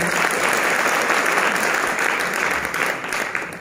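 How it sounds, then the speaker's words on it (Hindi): Sustained applause from a seminar audience honoring the women of the network marketing team seated among them, a steady wash of clapping that fades slightly toward the end. "इनके लिए जोरदार तालियां हो जानी चाहिए"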